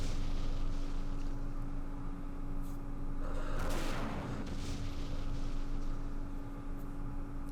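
A recoilless rifle fires in the war video game Campaign Series Middle East, a single heavy booming blast in the middle that rolls off over a constant low mechanical hum.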